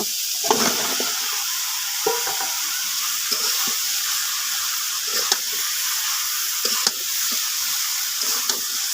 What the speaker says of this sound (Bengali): আমি এখন এর ভিতরে লাউ দিয়ে দেব।